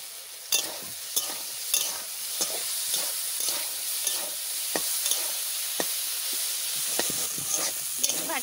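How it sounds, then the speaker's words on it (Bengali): Eggplant slices frying in a pan, giving a steady close sizzle broken by regular scraping stirs and spatula clicks, with no talking. "বেগুন ভাজা হয়ে গেছে, নামাই নিচ্ছি।"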